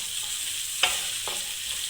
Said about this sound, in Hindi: इसको हम 2 मिनट देंगे फ्राई होने के लिए